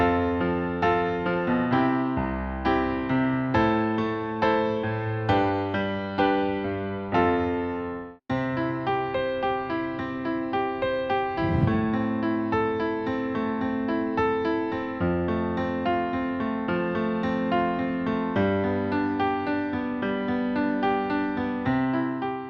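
Piano chords moving through a progression, sustained and resonant, with a short break partway before the playing continues steadily.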